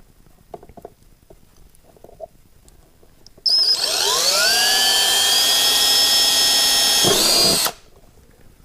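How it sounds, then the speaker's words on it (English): A power drill bites into a car body panel: a loud, close whine starts abruptly, holds steady for about four seconds while climbing slightly in pitch, then cuts off, with quiet handling noises before it. "So, box, drill. Let's see if we can go through this."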